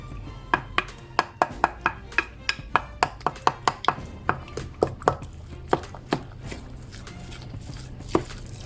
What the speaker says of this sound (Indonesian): Kemudian adonannya kita aduk semua jadi satu.